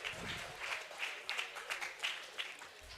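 An audience at a student stage drama claps for the actor playing the leader: uneven, scattered handclaps with distinct individual claps, moderately loud and fairly close.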